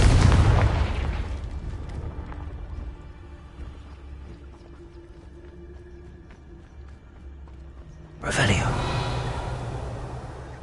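Confringo fire spell blasts in Hogwarts Legacy, a loud booming burst at the start that fades into a low rumble, then a second sharp explosive blast near the end, with a voice speaking.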